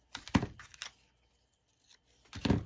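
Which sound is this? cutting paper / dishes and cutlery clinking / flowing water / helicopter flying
cutting paper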